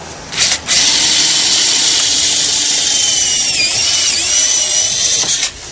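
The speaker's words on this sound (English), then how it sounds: "drilling a hole will allow the screw to go in nice and straight" A power drill whines steadily at close range drilling a pilot hole for a screw in a Chevy Corvette C6 exhaust filler panel, with a brief stutter near the start and a slight pitch dip, then stops.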